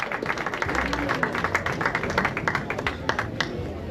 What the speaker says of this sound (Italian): ancora un applauso per il Monastir, per la stagione